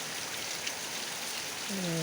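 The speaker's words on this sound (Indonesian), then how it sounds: "Tempat saya hujan deras, alhamdulillah, dengan diiringi petir guntur yang menggelegar" Heavy rain pours steadily as a broad, constant hiss, with a low tonal hum rising near the end.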